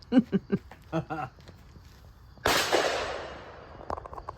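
A Mossberg MC2C 9mm pistol fires a single loud, sharp shot at close range on a shooting range, its crack fading in a long decay, heard after someone speaks briefly.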